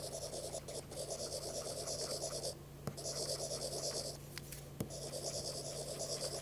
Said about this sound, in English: Samsung tries to simulate the sound of a pencil or pen writing on paper